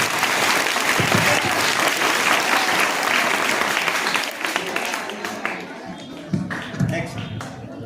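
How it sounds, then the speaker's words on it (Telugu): A school audience at an Independence Day celebration claps loudly and steadily for several seconds, the applause gradually thinning toward the end. "ఓసారి గట్టిగా క్లాప్స్ కొట్టింది"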